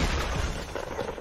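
A bomb explosion in the video game Fortnite, a dense rumbling blast with heavy low-end boom and crackling debris, loud and close, sustained over about a second with no talk.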